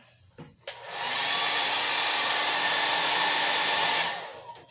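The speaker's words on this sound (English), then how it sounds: "So what you're about to hear is a blow dryer." A hair dryer switches on with a click and roars steadily at close range for about three seconds, then cuts off, leaving a quiet room.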